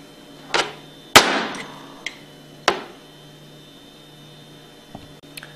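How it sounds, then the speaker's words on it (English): Several sharp metallic hammer taps ring out at uneven intervals, one heavy strike followed by lighter knocks, close by with no talking, as a steel-cased seal is tapped out of a roller pump housing. "place it against the inside of the steel casing of the seal and tap it out with a hammer"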